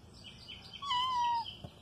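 A pet cat gives a single drawn-out, rising-then-falling meow beside a catfish being skinned, with faint chirpy sounds before it and no talking.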